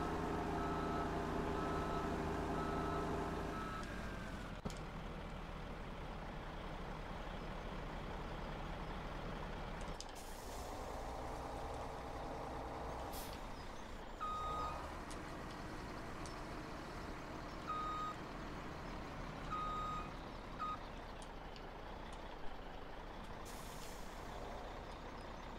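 Heavy truck engine in Farming Simulator 17 on the Timber Trail Canyon map, laboring while stuck: a steady low drone with air-brake hisses and brief reversing beeps, no talk.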